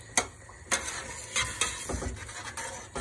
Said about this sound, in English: So I'm stirring them with the tongs